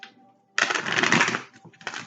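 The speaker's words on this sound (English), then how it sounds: "One more shuffle." A burst of papery riffling as cards are shuffled, about a second long, followed by a couple of softer flicks.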